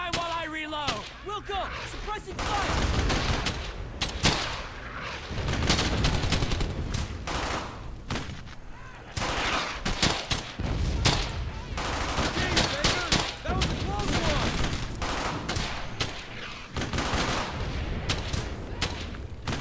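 Suppressing gunfire in Brothers in Arms: Hell's Highway, with rapid, sustained bursts of rifle and machine-gun fire and heavy thuds, loud and nearly continuous, with shouted voices briefly at the start.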